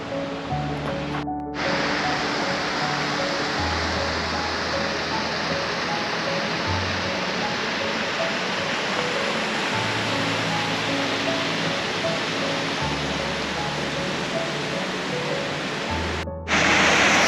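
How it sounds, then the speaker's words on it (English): A waterfall in a wooded area beside an abandoned house gives off a steady, broad roar that fills the whole stretch without letup, with no voices over it. "A waterfall. How about that? Something you don't usually see around this area."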